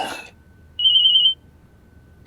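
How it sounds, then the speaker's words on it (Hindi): A single short electronic ring tone chirps once, clear and fairly loud, against a quiet background. "फोन आ रहा है"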